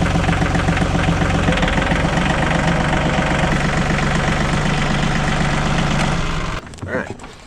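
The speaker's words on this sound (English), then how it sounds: "Oh, come on, old tractor." An old tractor engine idles loudly and close by, a steady low knocking rumble that runs for several seconds before cutting off abruptly near the end, leaving a brief faint rustle.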